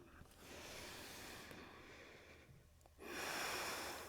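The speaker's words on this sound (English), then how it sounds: "Stay with the breath. Steady breathing." Slow, steady breathing during Ashtanga yoga practice: a long soft inhale followed by a stronger, rushing exhale, close to the ear and audible over quiet room noise, with no talking.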